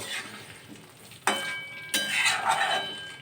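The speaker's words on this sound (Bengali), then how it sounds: "ধনে পাতা আমি এখন দিয়ে মশলার সাথে কষিয়ে নেব" Potatoes sauté with spices and coriander leaves in a pan, soft sizzling broken by two sharp scraping stirs of the spatula, close and moderately quiet, with no talk.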